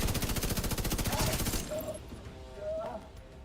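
A rapid burst of video game gunfire from snipers in The Division 2 rattles loudly for about a second and a half, then fades out as voices and quieter game sounds take over.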